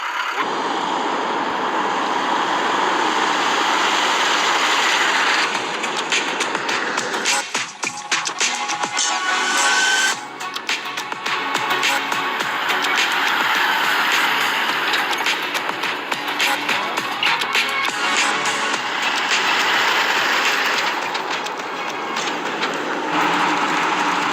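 A heavily loaded off-road vehicle on stiff tyres drives over sand dunes, producing a loud, steady rumble of engine, tyre and wind noise that carries on without a break.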